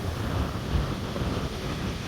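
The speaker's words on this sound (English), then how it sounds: "Look at the waves." Ocean waves roll and wash onto a sandy beach at Mattiscombe Sands in Devon, with rocks out in the sea; a steady rushing surf roar with wind buffeting the microphone throughout, no voices.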